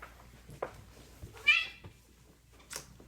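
A cat gives a short, fairly loud meow midway, with a fainter call near the end and small rustles and thumps between, against a quiet room.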